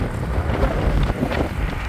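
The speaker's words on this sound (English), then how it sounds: "The wind is crazy today." Strong wind buffeting the microphone while cycling on a group road ride, a loud continuous roar with no speech.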